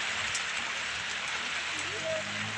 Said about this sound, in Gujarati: ફાઇનલી મિત્રો જો અમારો વરસાદ ચાલુ થઈ ગયો છે